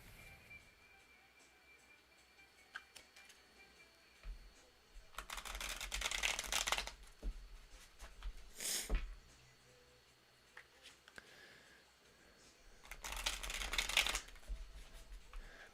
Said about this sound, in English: I'll give it one more shuffle.